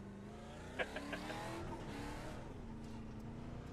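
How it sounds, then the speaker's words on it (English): Race car in an Indy practice session of a racing video game spinning into the grass after dropping a tire, with a brief squealing skid and engine whine over a steady drone, heard at low volume without voices. "dropped the tire and then ended up spinning into the grass"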